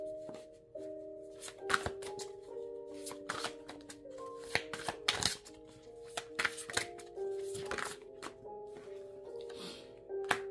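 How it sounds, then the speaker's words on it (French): Tarot cards are shuffled and drawn by hand in a series of crisp, irregular riffling and slapping bursts, close and fairly loud, with background music running underneath. "Je vais remettre deux cartes."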